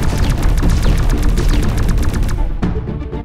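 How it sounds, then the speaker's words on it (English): Dense, loud alien gunfire in the strategy game X-Morph Defense, a rapid continuous barrage of shots and booms that thins out and fades near the end. "The aliens are shooting at us!"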